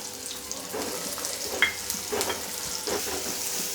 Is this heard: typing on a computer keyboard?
no